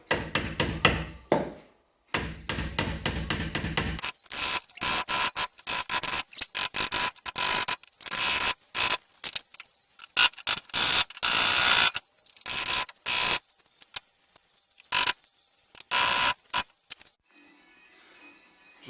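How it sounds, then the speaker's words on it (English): A flat chisel is hammered against car body spot welds on a Mexibug, a Mexican Volkswagen Beetle, during rear quarter panel repair. Loud, sharp metallic strikes come close up in rapid uneven bursts with short pauses between them. "I'm just going to try and chisel it off first with this very flat chisel"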